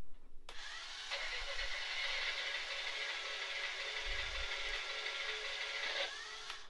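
A combustion engine sound effect from a Tardis console prop plays as a steady, loud mechanical roar for about five seconds, starting and stopping abruptly, with a couple of low thumps underneath.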